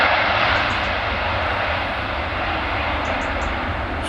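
Jet2 Airbus A330 Airtanker taking off at Manchester Airport, a loud, steady, broadband jet engine roar with no talk, heard nearby and sustained throughout.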